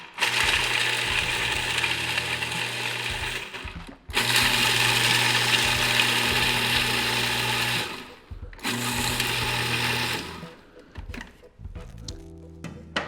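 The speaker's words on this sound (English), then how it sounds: "you want to put them in the food processor first, and you want to process these up before you add the rest of the ingredients" Unsalted cashews being chopped in a food processor: a loud, steady motor whir in three long bursts separated by brief pauses, ending with softer rattling and clatter.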